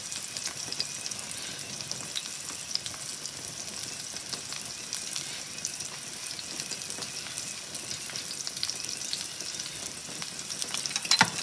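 Garlic and potatoes browning in a pan: a soft, continuous sizzle and light crackle, fairly quiet and even, that runs for the whole stretch with a few sharper pops near the end and no voices.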